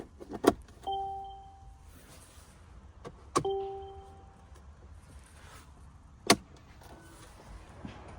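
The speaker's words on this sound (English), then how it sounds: "I'm just gonna stick it in here to make sure it works in the ignition switch." Key going into the ignition switch of an AMG GT-R, a few sharp close clicks and rattles, each followed by short steady electronic chime tones from the car.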